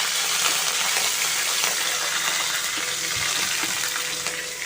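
Curry leaves hitting hot oil in a pan while making an ivy gourd fry, giving a steady, fairly loud crackling sizzle that runs throughout with no talk.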